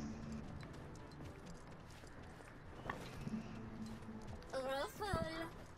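Horse hooves clip-clop in the Paladins video game, a quiet rhythmic clatter under players' chatter, followed near the end by a brief whinny-like call.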